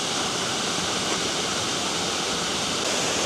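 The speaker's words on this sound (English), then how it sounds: "So, tallest waterfall on this island." Tocoihue waterfall, the tallest on Chiloé Island, heard from the river level below as a steady, dense, loud rushing roar of falling water with no pauses.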